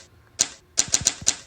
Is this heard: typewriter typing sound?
yes